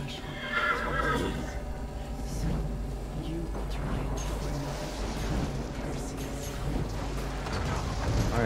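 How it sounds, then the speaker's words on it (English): A horse in a video game neighs loudly near the start, followed by clip-clopping hooves and battle noise, with voices talking throughout. "Are we gonna kill the horse?"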